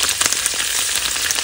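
Curry of fried potatoes and green chillies sizzles loudly in oil as turmeric and cumin powder are stirred in, a dense continuous hiss with a few sharp crackles up close.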